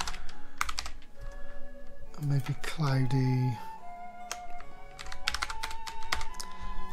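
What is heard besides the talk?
typing on a computer keyboard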